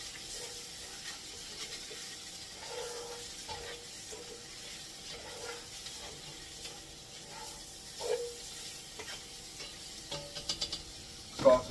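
Sausage and meat brown in a gumbo pot, giving a soft steady sizzle with a few spoon scrapes and clinks of stirring, growing louder near the end.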